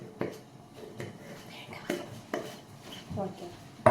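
Potato is crushed and mashed in a bowl for a face mask, a series of soft, irregular thuds and scraping knocks close by, faint and separated by brief pauses.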